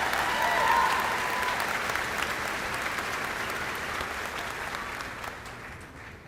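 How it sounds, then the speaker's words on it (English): Graduation audience applauding a group of graduates headed into national service, a broad sustained wash of clapping from a large crowd that swells early and then slowly tapers over six seconds, with no talk over it. "one more round of applause"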